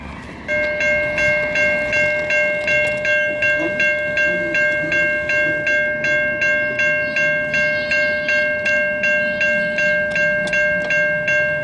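An AMT/RTM commuter train in Montreal's Pierrefonds passes close by on a summer evening, its loud horn sounding in a steady repeating series of blasts over the rolling rumble of the cars.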